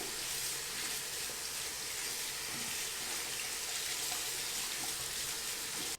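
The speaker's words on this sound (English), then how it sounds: "go just give these a quick rinse with water under the faucet" Tap water runs from a faucet over cap-and-ball revolver parts as they are rinsed clean of degreaser, a steady, unbroken hiss and splash at close range with no talking.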